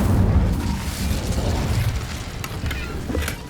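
An Incendio fire spell bursts in Hogwarts Legacy, a dense rumbling whoosh that starts loud and stays as a sustained roar, with a few faint crackles near the end.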